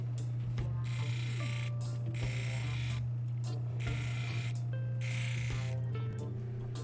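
A lapidary 600 grit wheel polishes Ethiopian crystal opal with a steady motor hum under rhythmic bursts of wet grinding hiss as the stone is pressed on and lifted off, no talking.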